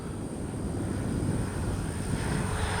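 A Freewing 70mm Yak 130 radio-controlled jet takes off, its electric ducted fan giving a loud, steady rushing whine that stays close and constant throughout.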